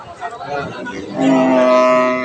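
A cow lets out a long, loud moo that swells midway at a cattle market in Kaharol, Dinajpur, with faint crowd murmur underneath at the start.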